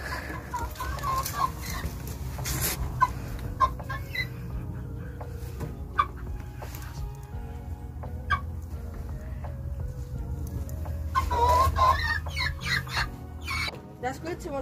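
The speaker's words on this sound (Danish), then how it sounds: "Vi har også de her høns her. Den her race hedder en spidstoppet appeltæller." Appenzeller Spitzhauben chickens, a crested breed, cluck softly in a new backyard henhouse, with scattered low clucks and calls at mid distance under a steady murmur of talk.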